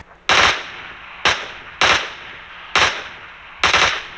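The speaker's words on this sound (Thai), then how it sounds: "อย่างเกมผับจีเนี่ย เดี๋ยวกดยิงให้ดูนะ" Gunfire from the shooter video game PUBG heard through Edifier WH700NB headphones: five sharp, loud bursts spaced at a steady beat, each ringing briefly before the next.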